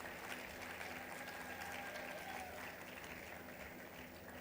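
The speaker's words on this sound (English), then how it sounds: "Students, please cheer for your friends." Students at a university convocation clap steadily, a continuous wash of applause from a seated crowd, fairly even and slightly distant, with no clear cheering standing out.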